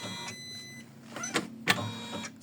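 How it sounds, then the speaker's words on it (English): An embroidery machine stitches a placement line for an in-the-hoop flower and bunny design on clear PVC, giving a steady mechanical whir with a few sharper clicks and taps, close and moderately quiet, with no talking. "So we stitch the placement line."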